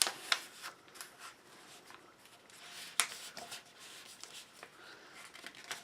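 Paper rustles and crinkles softly while being folded into triangles for a paper snowflake craft, with a crisp crease snap partway through, close and quiet.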